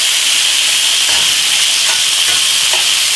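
Thin pork pieces fry in a hot pan with a loud, steady steam-like hiss, close and continuous, with faint soft shifts of stirring underneath.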